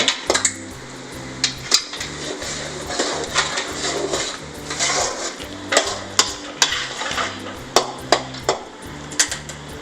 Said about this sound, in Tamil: அடுத்தது சிக்கன் போட்டுக்கணும். கொஞ்சம் நல்லா மிக்ஸ் பண்ணி விட்டுருக்கோம்.